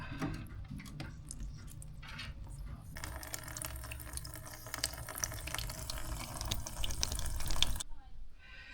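Water hisses and trickles steadily from a loosened fitting on a Potterton Powermax 155x gas boiler, growing louder and more sustained midway before cutting off abruptly near the end.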